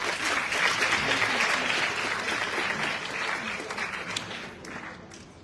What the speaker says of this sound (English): So let's keep clapping for the next speaker for Thinking Pig.